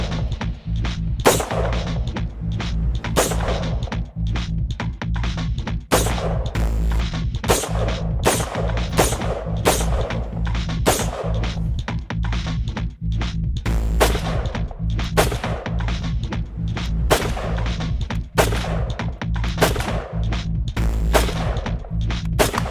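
A 3D-printed gun fires a long run of sharp, loud shots at an irregular pace, with dozens of blasts over the stretch and no talking.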